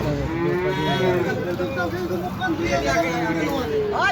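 Cattle low repeatedly amid a noisy crowd at a cattle market, with people chattering and bargaining close by throughout.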